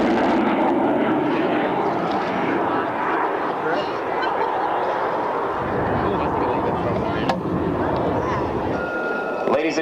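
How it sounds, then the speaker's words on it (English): An F-16 Viper fighter jet makes a high-speed, low-altitude pass at an airshow, a loud, steady broadband roar that holds throughout and drops slightly partway. Crowd noise and possible voices mix in beneath it. "he prepares to demonstrate the low-altitude, high-speed capability of the Viper"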